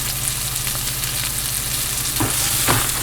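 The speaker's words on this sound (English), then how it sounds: "You going to fry your liverwurst today?" Continuous close sizzling of liverwurst frying in a pan, with a couple of soft scraping stirs near the end.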